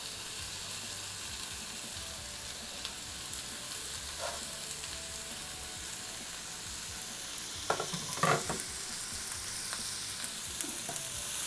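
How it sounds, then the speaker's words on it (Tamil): Chopped tomatoes and capsicum sautéing in a pan give a steady, even sizzle for the whole stretch, with a few brief clinks and scrapes from stirring and no talking. "இப்போ இதையும் ஒரு 2 நிமிஷம் நல்லா வதக்கிடலாம்."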